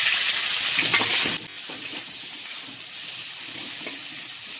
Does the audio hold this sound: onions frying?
yes